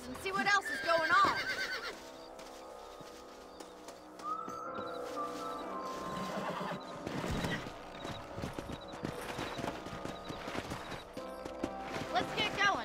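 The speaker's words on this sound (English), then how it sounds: "Let's get back on the horses and see what else is going on." Horse hooves clip-clop steadily and a horse neighs, with people talking in a Red Dead Redemption game scene over background music.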